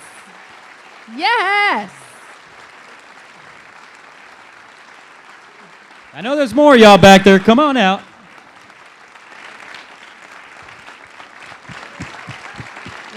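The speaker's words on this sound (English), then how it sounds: "Give them all a big round of applause." Audience applause and cheering for the finalists walking on stage at a live social venture event, rising in two louder bursts and then a steadier clapping wash, with a host talking over it.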